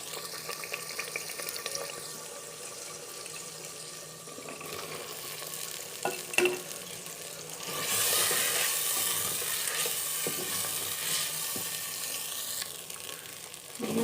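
Chopped ridge gourd (tori) drops into hot spiced masala in a pan and fries with a steady sizzle that swells louder partway through, with a few light clinks of utensils and no talking.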